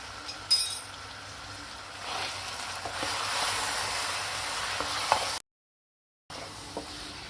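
Masala spices roast and sizzle in a pan for a chicken and capsicum curry, giving a steady, moderately loud hiss with faint stirring scrapes, then a short silent gap before the sizzle returns.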